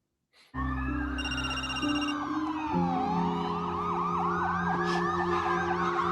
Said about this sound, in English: Was it Lights and Sirens?